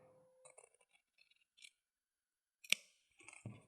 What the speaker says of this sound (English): I'm going to take my scissors and just cut the excess off.